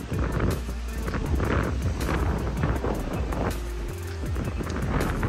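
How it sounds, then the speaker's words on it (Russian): Strong, gusty wind roars across the microphone during a November rainstorm in Budva, Montenegro, beside a flooded road, a continuous loud buffeting rumble with no talk. "Очень сильный ветер, затопленная дорога."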